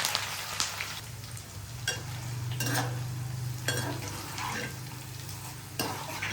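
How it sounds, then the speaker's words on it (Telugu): Garlic and curry leaves fry in hot oil for a tempering, giving a steady sizzle broken by repeated scrapes and clinks of a spoon stirring against the pan, close and fairly quiet. "తాలింపు సరుకులన్నీ వేగిపోయినాయి"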